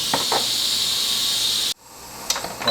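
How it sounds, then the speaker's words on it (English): A pressure cooker braising pork neck bones releases steam in a loud, continuous hiss that stops abruptly partway through, followed by a few faint clicks. "still got to release a little bit more steam"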